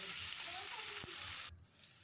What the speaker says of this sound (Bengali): পেঁয়াজটাও হালকা ভাজা ভাজা হবে।